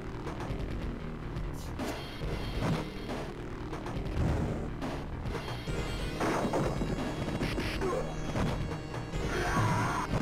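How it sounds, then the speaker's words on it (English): A car gets smashed in the bonus stage of the arcade beat-'em-up Final Fight, with repeated loud crashing and whacking hits over busy game music that runs continuously throughout. "Why'd you destroy that man's car?"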